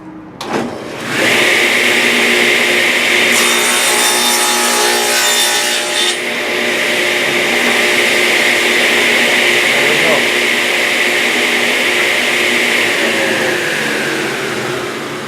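Tenoner machine cutting wood starts abruptly and runs with a loud, sustained whine and roar, with a brief higher rasping burst early on, continuing steadily to the end.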